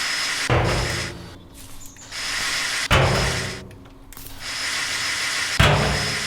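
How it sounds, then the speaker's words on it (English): An abrasive saw cuts through a tin sheet-metal wall in a demolition game, coming as three loud grinding bursts separated by brief pauses, close and with no talk over it. "cut tin wall with the abrasive saw"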